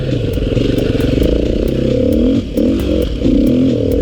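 A Beta RR480 enduro motorcycle engine putters at low revs, loud and close, with the pitch rising and falling as the throttle is worked, briefly dipping near the middle.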